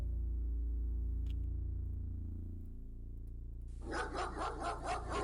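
Dog barks in the X-Com Files game: a low droning hum gives way to a burst of several loud, rhythmic bark-like pulses near the end.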